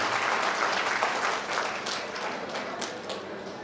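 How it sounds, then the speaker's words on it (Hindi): An audience at a company gathering gives a hearty round of applause in welcome: dense, rapid clapping with a few sharper claps standing out, sustained and fairly loud throughout. "जोरदार ताली के साथ स्वागत करना चाहिए"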